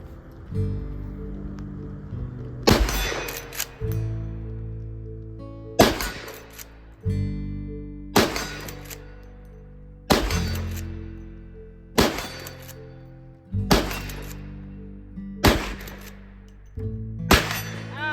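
A Marlin 1894 Trapper lever-action rifle in .357 fires repeatedly at a steel target 50 yards away: eight loud, sharp shots spaced about two seconds apart, each followed by a ringing tail and a short decay.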